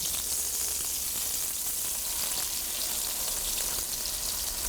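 Chicken cutlets fry in a pan over medium-high heat, a steady, dense sizzle and crackle held at an even level throughout, close and alone with no voices.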